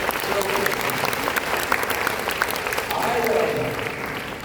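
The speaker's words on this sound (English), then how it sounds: "Can you give Attica a round of applause?" An audience at a regional business rally applauds after a role-play demo, a lively round of many hands clapping under scattered voices, steady and fairly close for several seconds.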